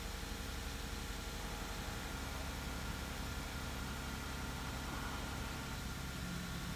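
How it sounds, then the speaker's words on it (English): A Lexus IS250 engine, just back from an intake manifold runner repair, idles high with a steady, even drone that stays constant and faint throughout, with no voices over it. "The idle is super high."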